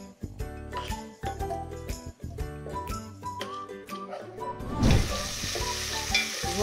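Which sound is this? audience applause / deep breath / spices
spices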